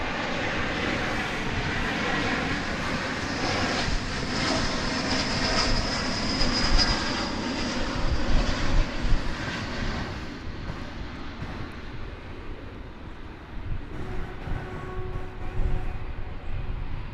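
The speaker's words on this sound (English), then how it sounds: "we've got American Flight 2612 coming in from Denver, Colorado. Be an Airbus A321" An American Airlines Airbus A321 arrives from Denver at Dallas Fort Worth with a sustained jet roar, moderately loud and swelling slightly toward the middle before easing off.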